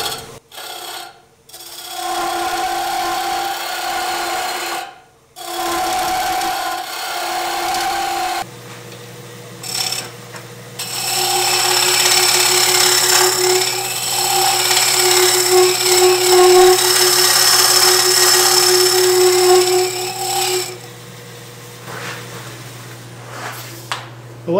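A wood lathe spins a madrone hollow form at about 700 RPM while a hollowing tool cuts inside it. Rough, rasping scraping comes in bursts with short pauses, then settles into a longer sustained cut over a steady low motor hum.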